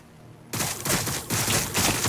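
Gunfire in the Warhammer 40,000 Battlesector video game breaks out suddenly after a quiet moment, then continues as a dense, loud fusillade of overlapping shots.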